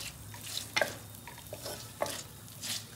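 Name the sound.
roasting food in a pan over low flame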